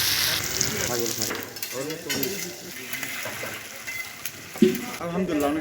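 Beef tripe frying at a street stall in Bogura, Bangladesh: a continuous oily sizzle with scraping and stirring of a metal pan, a sharp clank near the end, and faint voices in the background.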